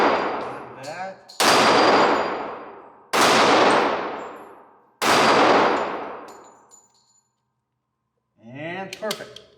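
Three loud, close gunshots from a Tisas Zig M 1911 pistol, spaced about two seconds apart, each with a long echoing decay, followed by a few metallic clinks.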